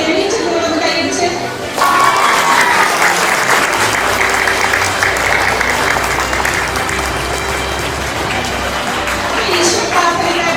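Sustained applause from a school audience at St. Antony's High School as students walk off the stage during an education award ceremony, loud and dense, steady for about ten seconds with a brief dip near the start.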